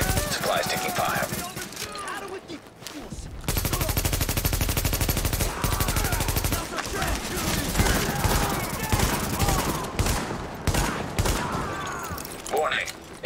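Dense automatic gunfire and scattered shots from The Division, loud bursts of rapid fire rattling continuously through most of the stretch with brief gaps, with a game voice speaking over the shooting.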